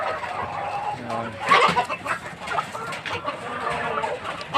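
Rhode Island and Hubbard Heritage chickens cluck on a farm, with several birds clucking close by in overlapping bursts and one louder call standing out partway through.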